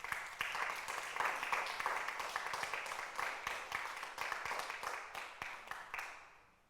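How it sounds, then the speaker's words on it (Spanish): A church congregation at a Sunday service gives a sustained round of applause, dense steady clapping from many hands that carries on evenly, then fades out at the end. "Dele un aplauso al Señor."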